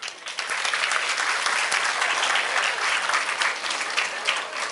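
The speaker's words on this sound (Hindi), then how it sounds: "गुड, जोरदार तालियां।" A workshop audience at a university gives a loud, sustained round of applause, dense and even from start to finish with no talking over it.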